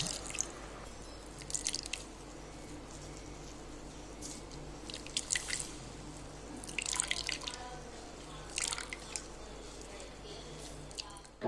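Coconut milk dripping as freshly ground coconut is strained: faint, irregular drips and small splashes patter into a bowl at close range over a quiet background hum.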